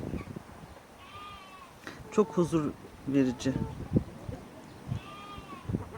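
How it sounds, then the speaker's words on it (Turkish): A lamb bleats from inside a farm shelter a few times, short wavering cries heard a little distance away, while a person speaks briefly nearby. "Ah kuzumuz da içeride bağırınıyor."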